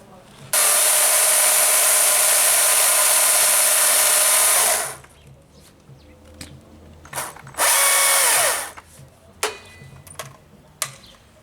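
A saw making an angled felling cut into a small tree: a loud high-pitched buzzing run of about four seconds, a quieter stretch with faint knocks, then a second short burst of cutting.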